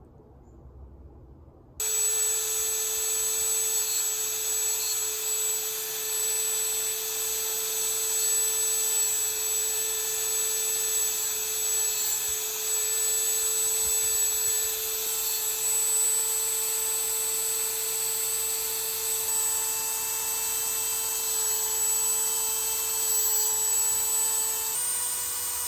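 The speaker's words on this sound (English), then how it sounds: "and a cutoff disc on the top. And again, I'm just taking away this burr on the edge." A cutoff disc grinds a burr off the edge of a metal part from a T56 transmission, a steady high-pitched whine that starts abruptly and runs on continuously at close range, with no voices.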